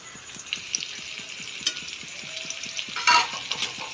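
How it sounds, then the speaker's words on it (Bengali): Mustard, green chili and cumin paste stirred into a frying mixture, a steady soft sizzle under light scraping strokes that build to a louder clatter near the end. "ভালো করে নেড়ে চেড়ে"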